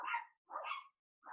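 Dogs bark outside a window, three loud, bright barks spaced evenly with short gaps between them, with no voices.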